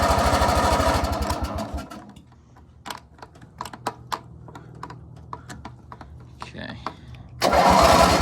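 Engine of a $20 riding mower cranking in a rapid loud chug without choke, then pausing amid clicks and handling noises before cranking again at the end; a brief spoken word occurs.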